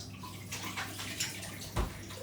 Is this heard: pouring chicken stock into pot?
yes